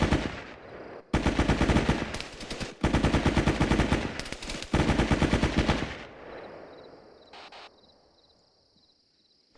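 Rapid automatic machine gun fire with tracer rounds during a training exercise, loud close bursts of several seconds separated by short pauses, then fading into quiet with a faint insect-like whine.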